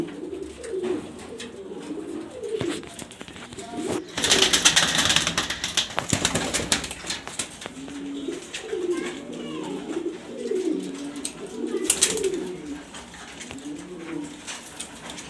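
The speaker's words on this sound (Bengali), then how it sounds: "সব বিগ সাইজের কবুতর," Large grizzle racer pigeons kept for sale in Mirpur, Dhaka, coo in rolling low phrases throughout, with bursts of wing flapping and clatter in between.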